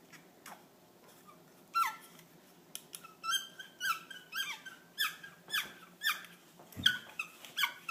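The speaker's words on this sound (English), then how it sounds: "You don't like squeaky noise?" A run of sharp, high squeaks, like a squeaky toy, repeating irregularly about once or twice a second after a quiet start, close and fairly faint, with no talk.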